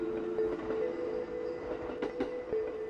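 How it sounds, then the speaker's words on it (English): A train rolls on rails in the video game Yûrei Station, a steady low rumble with a sustained tonal hum, faint wheel clicks and a couple of brief squeaks, close and continuous. "The train's vibrations relax me."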